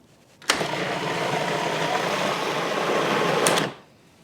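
A food processor blends cornstarch and salt into a smooth puree, a steady whirring motor run of about three seconds that starts and stops abruptly.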